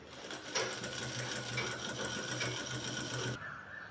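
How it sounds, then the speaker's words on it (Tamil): Sewing machine stitching a folded collar piece of fabric onto canvas for a collared shirt, a steady close whirring run of stitches that stops near the end, with no talk over it. "இந்த ஒரு சைடு மட்டும் கம்ப்ளீட்டாக மடக்கி கேன்வாஸ்க்கு மேலே தைக்கிறோம்."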